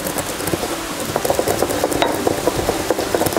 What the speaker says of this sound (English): And then, mix it a little more.